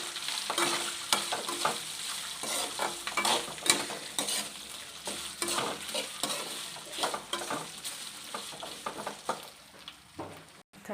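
Ladle stirring fish pickle in a hot pan, steady scraping strokes over a soft frying sizzle, close and moderately quiet with no talking.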